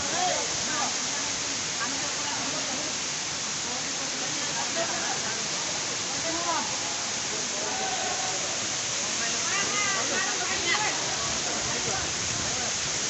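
A tall waterfall at Sitakund in Mayurbhanj pours water down onto the pool below, a constant rushing roar filling the whole stretch while people chat over it.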